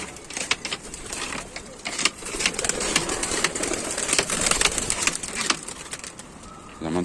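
Pigeons in a loft, a flock of about forty males kept for sale, coo and stir with soft fluttering and scattered sharp clicks, close and fairly busy throughout.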